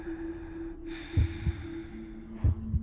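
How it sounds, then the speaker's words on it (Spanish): Heavy breathing close by inside a truck cab: two pairs of deep, rough breaths over a steady low hum, with quiet pauses between them. "Una respiración pesada, fuerte, justo dentro de la cabina"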